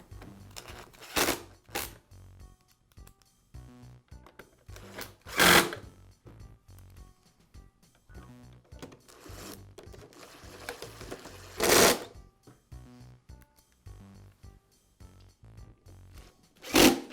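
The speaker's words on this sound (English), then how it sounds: "Now I'll reinstall the screws that secure the two halves of the housing together." Screws are driven back into the two halves of a Bostitch air compressor housing, with short bursts of a power driver whirring at intervals between quieter handling clicks and rustles.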